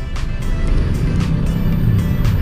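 Heavy road traffic surrounds a car in slow congestion, with a steady loud low engine rumble and vehicles passing close by, no talk heard.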